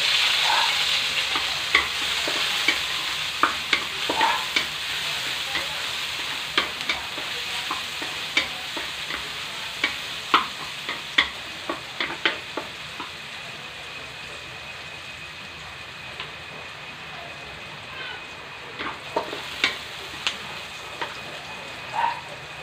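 Garlic and then onion sizzle and fry in a pan for a turon toge (bean sprout) filling, with scattered spatula stirs and scrapes over a constant hiss, fairly quiet and without speech.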